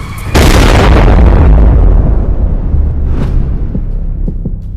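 A massive asteroid impact explosion erupts with a sudden deep boom, then a long rumbling roar that slowly fades, followed by a few faint distant thuds.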